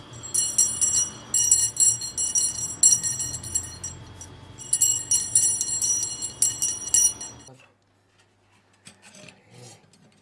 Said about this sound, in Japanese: こうして精魂込めて鍛えた火箸は 高く澄んだ音を出すことが分かったのです